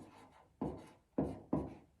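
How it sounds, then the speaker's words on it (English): Chalk or marker strokes on a board, four distinct scratchy strokes in quick succession, close and fairly quiet with no talking. "So I'm going to write"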